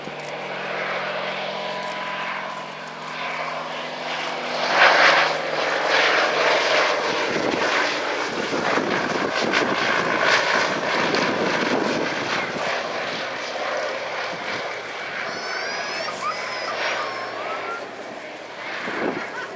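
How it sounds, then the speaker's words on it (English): A Fairey Swordfish biplane flies past at an airshow, its radial engine and propeller droning steadily and swelling as it passes, with wind buffeting the microphone and faint crowd sounds beneath. "beginning with the immortal Fairey Swordfish"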